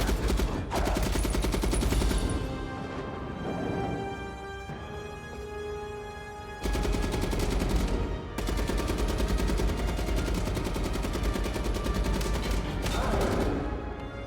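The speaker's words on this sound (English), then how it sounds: "He busts out the strap and starts blasting." Sustained automatic gunfire from a Marvel movie battle scene, dense rapid bursts of loud shots with brief gaps, one longer pause, then renewed heavy firing.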